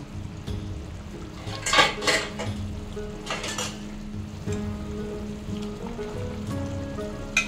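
Tangra fish go into a bubbling pot of shukto with bitter gourd and potato, giving a burst of sizzle and splashing, then a low simmering crackle with occasional clinks of a utensil; no speech.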